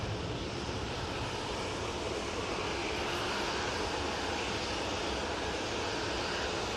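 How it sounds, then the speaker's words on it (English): A Ryanair Boeing 737-800 jet roars close by at Manchester Airport, a loud, steady, dense engine rush filling the whole clip without letup and with no voices over it. "Next Ryanair. Right in front of us. Off to Rabat with a 737-800."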